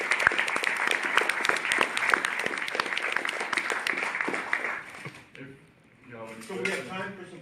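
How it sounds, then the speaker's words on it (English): Audience applause at a lecture on ancient Iranian water structures, a dense sustained patter of many hands for about five seconds, then it fades out and a voice speaks near the end. "So would you please do me a favor and applaud her instead of me?"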